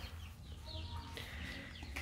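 A farmyard chicken clucks intermittently amid outdoor background noise, with short calls coming and going against a low steady hum.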